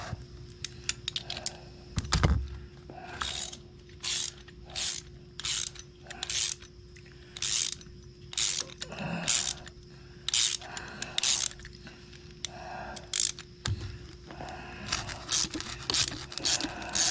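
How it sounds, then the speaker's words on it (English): A bolt is worked back and forth in the threads of a Honda Reflex scooter's rear brake, giving repeated bursts of ratcheting metallic clicks in a steady rhythm, close up and fairly quiet, with a few louder knocks. "We'll just keep going back and forth here to see if we can get this threads cleaned up."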